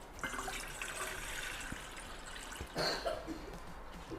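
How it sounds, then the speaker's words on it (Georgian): Water runs from a tap into a cooking pot, filling it halfway for a cheese soup; a quiet, steady splashing stream with a brief louder gush partway through. "ნახევრამდე ვავსებთ წყალს"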